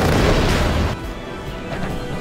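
Artillery fire in the Contra X strategy game, a heavy rumbling boom that fades into lower, distant rolling blasts.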